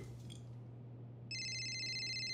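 A telephone rings with an incoming call, a bright electronic ringtone cutting in partway through and holding steady over a low constant hum in a quiet room.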